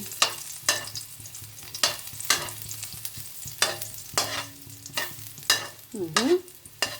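Onions and garlic sizzle in a pan while a utensil scrapes and stirs them in regular strokes about every half second, close and clear with no talking.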